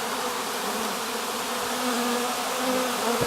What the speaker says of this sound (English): I'm going to give them a little shake.